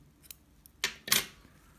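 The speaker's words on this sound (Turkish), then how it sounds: "İpi burada kesiyorum." Scissors snip through crochet yarn up close, with a faint click and then two sharp, crisp cuts in quick succession in a quiet room.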